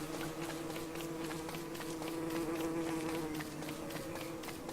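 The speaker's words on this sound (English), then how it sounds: "There's bees." Bees buzz in the video game Don't Starve: a steady, close insect drone that hums continuously throughout, with no talking over it.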